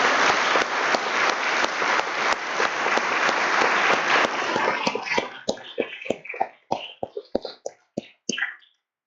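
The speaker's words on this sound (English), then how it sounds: "Join applause for all the folks who are with us today." Applause at a memorial service, dense clapping from a gathered crowd that thins after about five seconds into scattered individual claps, then stops.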